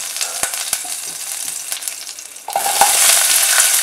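Curry leaves hitting hot oil with mustard seeds, fenugreek seeds and asafoetida in a pan, with light stirring clicks at first and then a sudden loud, steady crackling sizzle up close, no voices.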